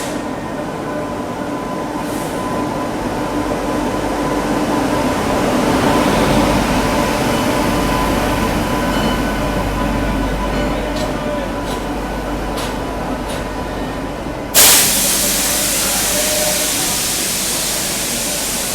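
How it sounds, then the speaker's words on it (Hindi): A Kalyan-shed WP7 locomotive hauls the 12171 LTT–Haridwar AC Superfast Express into platform 6 at Bhusaval, heard as a long, steady rumble and hiss from nearby, with a sudden clank near the end. "कल्याण शेड के WP7 लोकोमोटिव के साथ अपनी 12171 LTT Haridwar AC superfast express Bhusawal के प्लेटफॉर्म नंबर 6 पर आ रही है."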